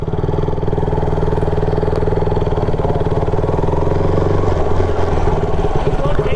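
Several parked superbikes, a Kawasaki Ninja among them, run with a loud, steady, close engine rumble and a faint mechanical clatter, with no voices in the foreground.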